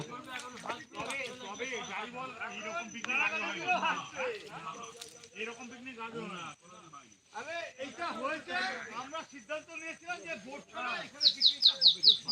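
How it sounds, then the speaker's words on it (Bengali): Birds chirp and twitter in the Sundarbans amid steady talking voices, ending with a burst of loud, rapid high chirps. "দেখছেন কি সুন্দর পাখির আওয়াজ"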